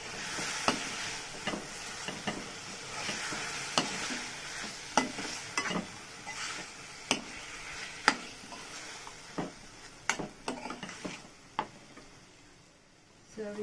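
Mutton for mutton sukkah stir-fried in a pan, with a steady loud sizzle and repeated sharp spatula scrapes and clacks at an uneven rhythm, close by.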